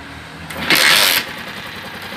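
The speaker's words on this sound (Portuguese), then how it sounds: "Agora eu vou funcionar a moto aqui" A 2003 Honda CG 125 Titan KSE motorcycle, which cuts out when the indicator or brake is used, is kick-started: a short close burst of engine noise rises, peaks for about half a second, then settles into a low idle.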